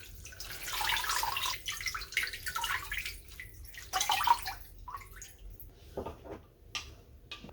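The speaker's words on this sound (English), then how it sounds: "squeeze the water out from the vegetables so that they will have the room later to soak up the sauce" Cooled, cooked Swiss chard squeezed by hand, with water dripping and splashing out in bursts, fairly close and quiet, no talking.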